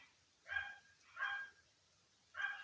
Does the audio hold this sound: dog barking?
yes